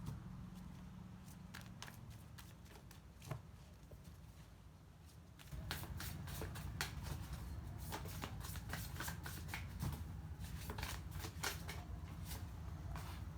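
Tarot cards are shuffled with soft, quiet riffling and flicking, the pace picking up partway through with rapid light snaps over a steady background hiss.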